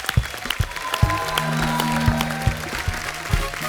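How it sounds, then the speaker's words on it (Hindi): A studio audience at a comedy talk show applauds in a loud, steady roar of clapping, close and dense, with a low musical tone sustained underneath. "जोरदार तालियां होनी चाहिए।"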